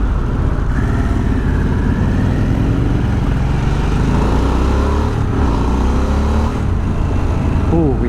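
A Harley-Davidson Sportster S motorcycle accelerates, its engine drone rising in pitch under heavy, loud wind rush. The sound is continuous and close, as if recorded while riding, and a voice is faintly mixed in.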